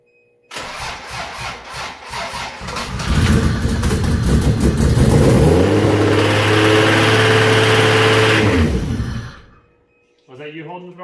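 A Toyota Supra engine cranks over and catches, revving up loud and steady for several seconds with a rising, sustained roar before cutting off abruptly, followed by a brief voice.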